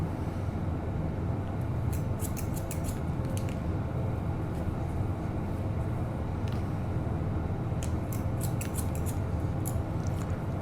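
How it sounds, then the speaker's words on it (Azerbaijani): Scissors snip through long hair during a step-by-step haircut, in two quick bursts of close, crisp clicks heard over steady low background noise. "Yəni bu qaydada da bunu kəsirəm."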